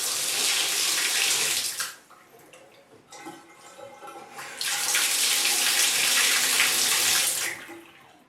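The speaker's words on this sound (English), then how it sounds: "There's no leaks out around here, and then that the water turns on and off as it should." Water gushes loudly from a bathtub faucet for about two seconds, cuts to a quieter trickle, then rushes on again strongly for roughly three seconds before being shut off.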